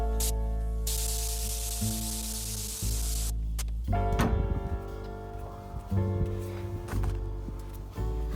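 Undercoat is sprayed onto a piece of homemade furniture, a steady close hiss of the spray lasting a few seconds, followed by quieter handling clatter and shuffling.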